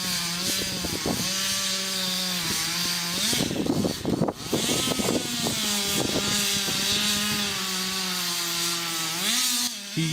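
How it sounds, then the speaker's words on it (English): A Stihl 440 gasoline chainsaw cuts into an oak tree during felling near a house, its engine droning loud and close with pitch dipping and rising as the chain bites, broken by brief bursts of ragged cutting noise. "The Stihl 440 is a small handheld chainsaw powered by a gasoline engine."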